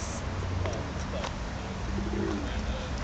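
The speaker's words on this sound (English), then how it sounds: "there's a pigeon trying to woo a female pigeon" A pigeon courting a female gives soft repeated cooing outdoors in Maidstone, buried in heavy wind and crowd noise with people talking nearby.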